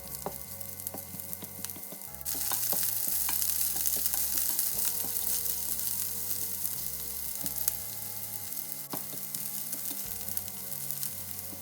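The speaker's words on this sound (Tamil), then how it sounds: "எண்ணெய் விட்டு இந்த வெட்டி வச்ச பச்சை மிளகா வெங்காயத்தை போட்டு தாளிக்க வேணும்" Loud steady sizzling of green chilies and onions frying in hot oil, continuous crackle with occasional stirring clinks, no voices.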